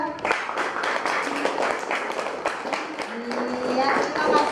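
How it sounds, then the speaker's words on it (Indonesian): Classroom applause for a student group after a presentation, a steady patter of many hands clapping that carries through the clip amid voices and a light scuffle of movement. "Tepuk tangan untuk kelompok 2."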